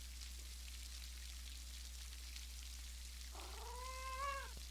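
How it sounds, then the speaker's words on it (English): A single cat meows once, near and clear, in the video game Pentiment during a stormy evening, over a steady hum and soft patter of rain. "Let's pet the cat named Schlau."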